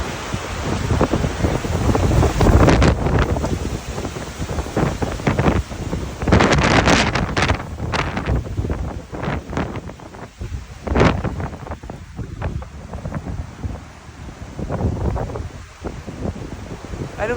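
Blizzard wind storm howling outside a remote home, loud gusts buffeting the microphone in a continuous roaring rush that surges and eases, with no one speaking.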